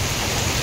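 Heavy rain pours down in a steady, dense hiss with no gaps, loud and close, and no voices are heard.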